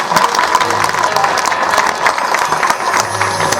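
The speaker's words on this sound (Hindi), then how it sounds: "चलो एक बार ताली बजा सब कोई।" An audience at a religious discourse in a village setting claps together in a steady, dense wash of applause that carries on evenly throughout, with a few voices mixed in.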